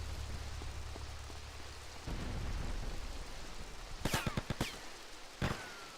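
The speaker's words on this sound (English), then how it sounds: "It's actually quite an acceptably nice rain once you mod it." Steady modded rain hiss in Grand Theft Auto: Vice City, joined partway by a cluster of sharp splashy impacts and a later single crack, with no talking.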